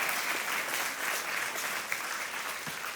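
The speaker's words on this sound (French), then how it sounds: "Vous applaudissez, hein ?" Audience applause at a talk fills the whole stretch, a steady dense wash of many hands clapping at even loudness, with no voices over it.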